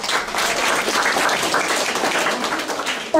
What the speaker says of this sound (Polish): Ale brawa oczywiście się należą.